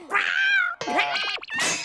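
Cartoon cat meowing, a drawn-out yowl followed by two shorter wavering meows, close and loud with no talking.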